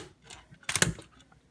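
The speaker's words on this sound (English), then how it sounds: "So yeah, you can make the rotor spin." A T.B.T Dx Tokumei Gattai gorilla and rabbit toy robot rotor spun by hand gives a short, close clicking and whirring burst of plastic mechanism noise, loudest for a moment in the middle of an otherwise quiet clip.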